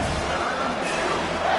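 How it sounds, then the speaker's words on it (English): A stadium crowd at a football game roars loudly and steadily as it rises up behind the defense, a dense wash of noise that fills the whole clip with a voice faintly in it. "this crowd is turning it up a notch"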